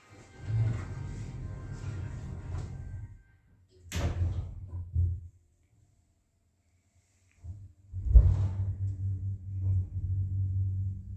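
Lift doors at Southside Shopping Centre in Wandsworth slide and thud shut twice, with a low mechanical rumble between them and a near-silent pause in the middle.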